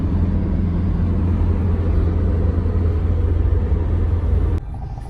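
Road traffic passes near Dubai Cricket Stadium, heard as a steady, loud rumble of cars and engines that drops away abruptly near the end.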